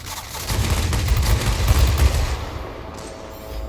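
Fw 190 D aircraft cannons firing in World of Warplanes, a dense, loud, continuous burst of rapid shots with heavy low rumble that tails off near the end.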